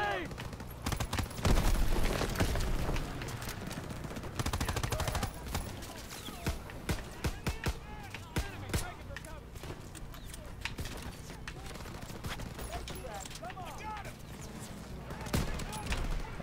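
Repeated gunfire from a Call of Duty: WWII battle, with sharp shots and bursts in irregular clusters, loud and close, mixed with movement sounds and voices talking over it.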